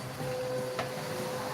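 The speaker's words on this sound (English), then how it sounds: "we got the cleaners are here, so they're gonna vacuum me and stuff in the background" Cleaners run a vacuum somewhere in the background while someone paints a Pikachu. It makes a steady, even whir with a faint tonal hum and one brief scrape partway through.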